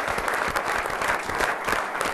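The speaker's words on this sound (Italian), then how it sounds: "quindi l'applauso a tutta la squadra" Audience applause for the Padova football team at a presentation event, moderately loud clapping from a crowd with individual claps standing out in a slightly uneven rhythm.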